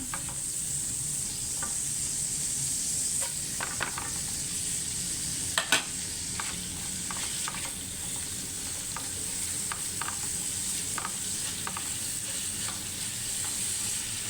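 Garlic sizzles steadily in a hot pan, a constant frying hiss close by, broken by occasional light clicks of stirring, with no voices.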